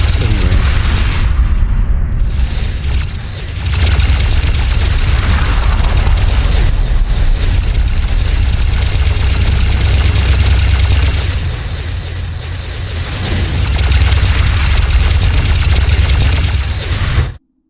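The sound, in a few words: ships shooting and exploding in video game X4 Foundations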